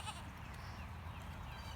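A goat bleats in a farm's front pasture, a short, moderately close call over low steady background noise.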